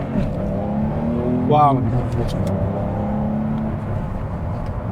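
A 2024 Porsche 911 GTS engine accelerating, heard from inside the car as a steady hum with a brief rising rev in the middle, while a person speaks over it.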